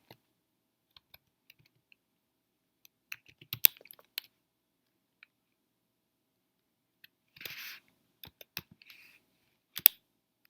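Scattered keystrokes on a computer keyboard come in sparse bursts and single taps separated by quiet pauses, with one short rustling burst partway through, close and fairly faint, with no voices.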